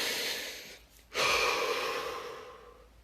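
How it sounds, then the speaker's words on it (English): A slow, deep breath is taken close to the microphone: a long inhale, a short pause, then a breathy exhale that fades out, all without talk. "Take a deep breath."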